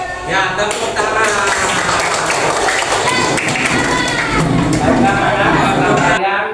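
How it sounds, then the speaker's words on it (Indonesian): Students clap their hands together in a classroom, a dense patter of many claps blending with children's voices and running steadily for several seconds at a lively, fairly loud level. "Ya, tepuk tangan."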